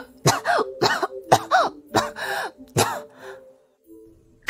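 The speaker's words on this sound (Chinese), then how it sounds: "让茶水呛了一口，小拳头捶着胸口直咳嗽。" A small child who has choked on tea coughs in a rapid series of about five harsh coughs, one after another, followed by a quieter breath and a pause.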